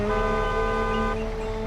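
A vehicle horn honks in a driving video game set in Riverbend Springs, one long, steady, loud blast held for nearly two seconds with no other sound.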